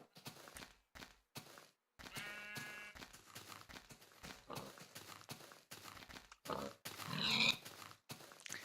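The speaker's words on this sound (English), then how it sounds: "These pigs are worthless." Pigs in a video game grunt and oink in short snorting bursts, mixed with scattered game sound effects and brief silent gaps between them.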